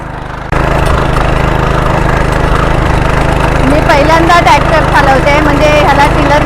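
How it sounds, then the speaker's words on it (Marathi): A power tiller's engine idles and runs with a steady, close mechanical drone in a Konkan rice field during paddy planting. It starts abruptly, and voices talk over it in the later part. "त्याला टिलर बोलतात पण इथे ट्रॅक्टर बोलतात"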